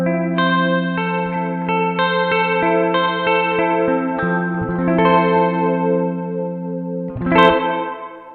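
Electric guitar chords ring through a Strymon BlueSky reverb pedal set to modulated reverb, a lush, wide, chorus-like wash. Steady strummed chords sustain and overlap throughout, ending in a brighter accented strum.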